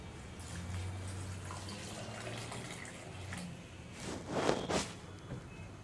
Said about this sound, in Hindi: और साथ हम इसमें पानी ऐड कर देंगे।